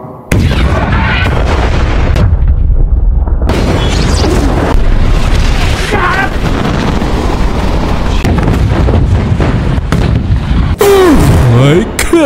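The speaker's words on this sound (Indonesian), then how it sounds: "betapa syoknya mereka saat menyadari persediaan bahan bakar telah musnah dalam ledakan dahsyat" Aircraft fuel drums explode in the desert, a loud, rumbling blast that booms and roars continuously, dense and close, with a brief voice rising near the end.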